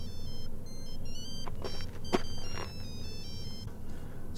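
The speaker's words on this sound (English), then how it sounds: "It's started ringing as soon as I dialed David" A telephone rings right after dialing, a repeating electronic warble of bright tones over a steady hum, with a couple of sharp clicks in the middle.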